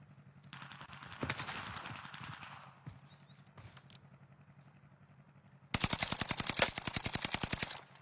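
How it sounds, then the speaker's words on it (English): Rapid automatic gunfire from a gun in a video game: a short burst and a few scattered shots early on, then a long, loud, fast rattling volley over the final two seconds. "Don't try and strafe as you're shooting with this gun, Ski."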